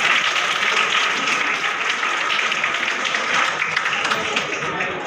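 Sustained dense applause from a crowd at a felicitation event for Urdu-medium SSLC toppers, steady and fairly loud throughout with a faint murmur of voices beneath.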